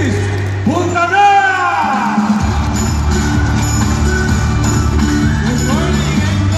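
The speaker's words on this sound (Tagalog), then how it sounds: "Milyon palakpak para kay Chris Puntana!" A large crowd at an anniversary event in an arena cheers and shouts after an announcer's call, a loud wash of whoops and applause under amplified speech.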